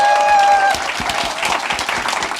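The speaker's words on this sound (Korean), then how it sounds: "So give yourself a round applause because of yourself, because of your energy." An audience applauds at a motivational seminar, dense clapping filling the whole stretch, close and loud, with a few sustained tones at the start.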